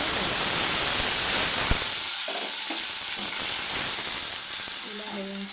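Shrimp frying in hot oil with turmeric and tempering seeds gives a steady, loud sizzle that fills the whole stretch, with faint stirring and a brief voice near the end.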